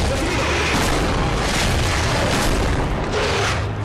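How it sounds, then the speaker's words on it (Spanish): Explosion in the video game Resident Evil 6, a loud booming blast with a rumbling, sustained roar and debris noise over a few seconds. "Una explosión, señor."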